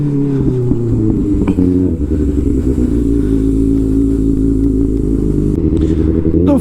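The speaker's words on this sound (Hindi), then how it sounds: "अपनी बाइक को भी हमने कोल्ड स्टार्ट कर दिया है।" A motorcycle engine idles loud and close right after a cold start, a steady, throbbing low rumble with a brief blip of revving near the start and faint clatter throughout.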